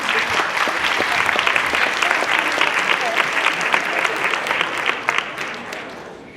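An indoor audience applauds at a leadership-day opening ceremony, with dense, steady clapping from a crowd that holds strong for several seconds and then thins and fades at the end.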